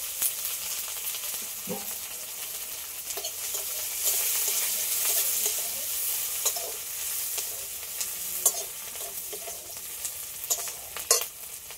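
Sliced onions and slit green chillies frying in hot oil in a pan, a steady close sizzle running throughout, with a few sharper spits and scrapes of a utensil now and then.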